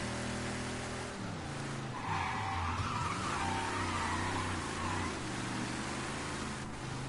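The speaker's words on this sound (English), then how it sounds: "Alright, I can burn out in this game." A car in the video game Mafia 3 does a tire burnout, a sustained engine roar with rising revs and a screeching tire squeal layered over it, loud and continuous.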